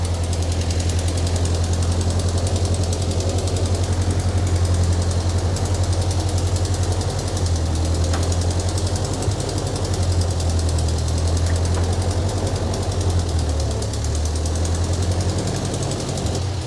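Ford 9N tractor engine running steadily after repair, a continuous loud low rumbling idle with a slightly knocking, uneven pulse, close by, with no talk over it.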